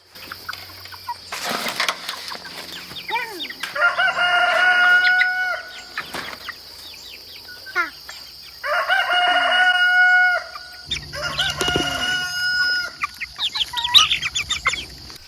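A hen being held clucks up close, with longer drawn-out calls like crowing and bursts of wing flapping between quieter gaps.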